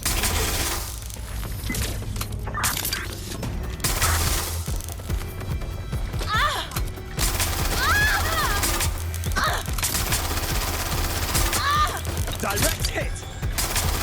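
Gunfire and crashes in the Watch Dogs: Legion video game: a loud, busy mix of bursts of shots, impacts and mechanical clatter, with voices calling out over the din.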